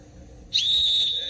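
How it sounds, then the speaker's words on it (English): A whistle blown in a played music track: a loud, steady, high whistle tone starts abruptly partway through and holds to the end over a low background murmur. "Blow the whistle."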